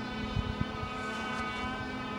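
Racing boats run out on the water, heard as a steady distant engine drone with a constant tonal hum and faint low thumps, no voices.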